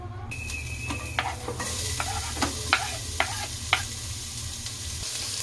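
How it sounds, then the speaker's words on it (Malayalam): Mustard seeds and onion sizzle in hot oil in a pan, a steady frying hiss broken by repeated light clinks of a spoon stirring, close and alone. "കുറച്ച് എണ്ണ ഒഴിച്ച് ഇച്ചിരി കടുക് ഇട്ട് കൊടുക്കാം"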